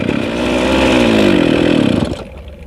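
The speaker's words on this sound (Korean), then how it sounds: "예, 이렇게 이제 시동이 꺼졌습니다" A farm machine engine idles loudly up close, a rough buzzing drone that slows, drops in pitch and sputters out to silence as it stalls after running out of fuel before winter storage.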